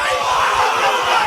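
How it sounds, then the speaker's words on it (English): Football crowd at a Point Cook Centrals versus Newport match roaring and yelling after a kick for a behind, a dense, steady wash of cheering voices with no break. "The crowd goes off."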